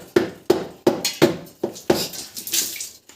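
A plastic RO water filter membrane housing is tapped to loosen it, giving six sharp, evenly spaced knocks followed by softer rattling and a brief sloshing scrape, close and fairly loud.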